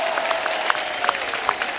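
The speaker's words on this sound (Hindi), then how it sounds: "इनके लिए जोरदार तालियां" Studio audience applause on The Kapil Sharma Show, a Hindi TV comedy program, steady crowded clapping with a few sharper individual claps standing out, and no talking over it.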